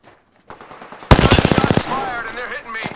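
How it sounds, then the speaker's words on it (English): Rapid automatic gunfire in Apex Legends, a close, loud burst of evenly spaced shots lasting under a second, followed by trailing game sounds and a short voice. "Shots fired and they're hitting me!"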